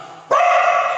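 A single sharp dog bark rings out close and loud, then holds briefly before cutting off.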